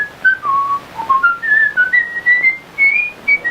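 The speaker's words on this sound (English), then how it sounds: "he was whistling a happy tune" A man whistles a cheerful, bouncy melody alone, the clear notes rising and dipping in short phrases.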